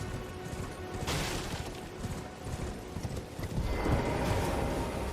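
Horse hooves clip-clop in a galloping rhythm in the Elden Ring video game, moderately loud with a rising rush of movement toward the end and no voice.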